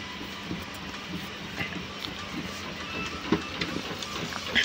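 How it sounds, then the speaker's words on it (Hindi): An Epson L805 ink tank printer printing a photo on 270 GSM paper gives a steady mechanical whir with faint rhythmic clicks of the carriage, fairly quiet and continuous throughout. "ये प्रिंट हो रही है अपनी फ़ोटो, और देखिए कितनी फास्ट इसमें प्रिंट निकल रही है।"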